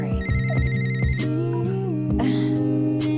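A mobile phone rings with a bright repeating electronic melody, several tonal pulses in a row, loud and close with nothing else over it.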